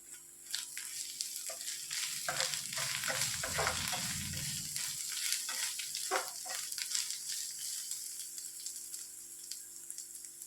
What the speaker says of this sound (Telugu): మొత్తం బాగా ఫ్రై చేసుకోవాలి.